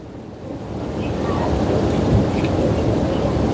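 Broad, steady roar of rushing water at the Algodones Spillway, also called the San Felipe Spillway, on the river, close and loud and swelling slightly over a few seconds, with no talking.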